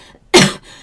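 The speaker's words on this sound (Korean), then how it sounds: "그러던 도중 컥컥거리기도 했습니다" A husband coughing and choking while being spoon-fed food: a single harsh, close throat-clearing cough burst, loud and brief, between quiet moments.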